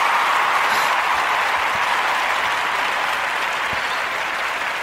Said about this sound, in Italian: applauso per Enrico